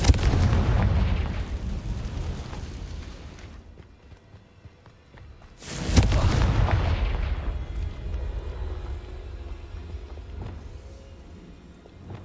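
Confringo fire spell blasts in the Hogwarts Legacy video game: a heavy booming explosion at the start that rumbles away, then a second loud blast about six seconds in, each trailing off into a fading roar.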